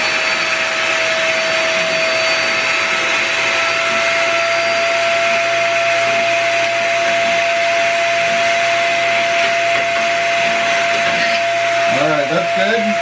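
A Snow Joe ASHJ201 ash vacuum runs loud and steady, sucking up ashes with a constant motor whine and rushing airflow that holds throughout and shifts slightly near the end.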